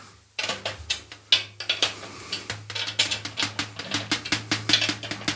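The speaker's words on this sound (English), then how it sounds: "Now I'm going to tune it up just a little bit so I can get a little bit higher note" Rapid, bright snare drum strikes rattle with snare buzz, tuned slightly higher, a dense series of sharp hits at close range with a low hum underneath.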